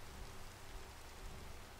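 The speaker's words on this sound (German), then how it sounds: "der Regen hört aber nicht mehr auf hier" Minecraft game audio: steady, soft hiss of rainfall with no other sounds, even and unchanging throughout.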